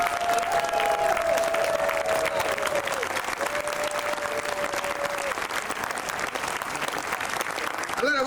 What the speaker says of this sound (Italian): applauso forte!